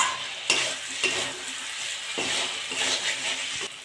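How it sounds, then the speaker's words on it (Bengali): Fresh chhana (cottage cheese) sizzles softly in a pan while a spatula stirs it, with steady frying hiss and a few scraping strokes, close by and without talking. "এটা নেড়ে চেড়ে নিয়েছি ভালো করে।"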